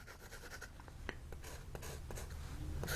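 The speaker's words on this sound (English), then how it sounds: "This is the smoothing board I've been using for over a year." Jinhao 992 fountain pen nib scratching in a slight pattern across the rough side of a smoothing board, a faint close series of short dry strokes and scrapes with no talking.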